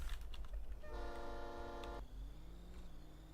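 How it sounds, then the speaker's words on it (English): A loud multi-tone train horn fitted to a truck in Farming Simulator 22 blasts once for about a second over steady engine rumble, then cuts off as the engine drones on. "I have a train horn on my truck."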